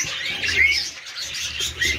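Small yellow pet birds chirp in a cage, with bright, short high tweets repeating over a soft background hum.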